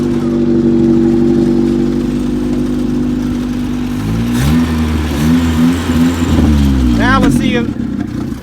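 A Toyota Wolverine engine with a beat-up exhaust manifold drones steadily, its pitch wavering and shifting unevenly before the running falters and cuts off near the end.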